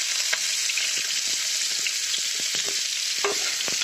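Onion and green chilli frying with cumin seeds in hot oil, a steady close sizzle throughout with scattered light clicks of a spoon stirring the pan.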